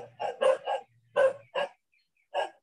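A dog barks about six times in short, irregular bursts, fairly clear and nearby, with no speech over it.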